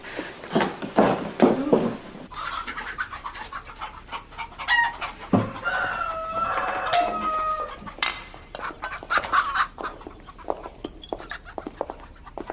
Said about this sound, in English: Can't say I care for hens. Mostly cockerels, they be.